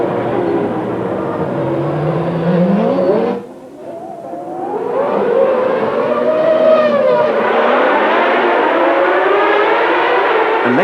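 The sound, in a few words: 1994 Formula 1 race cars racing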